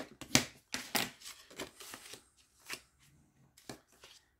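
Thick 210 gsm paper card being flexed and handled during card making, giving quiet, irregular crackles and rustling snaps in short bursts separated by near silence.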